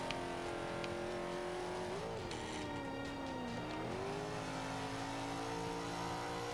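A race car engine from Forza Motorsport 5 drives laps, a steady loud drone with gear-change dips and revs rising and falling, running continuously with no talking.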